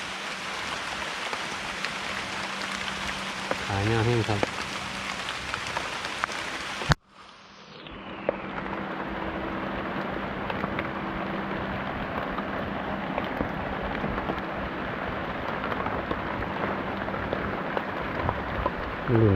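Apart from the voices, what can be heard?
rain falling during mushroom foraging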